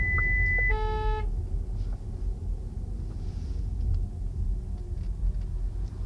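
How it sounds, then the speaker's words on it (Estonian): Škoda Enyaq iV driver-assist system sounding a short warning beep and then a rising multi-tone horn signal, loud and close inside the car over a steady low road rumble. "Andis helisignaaliga märku."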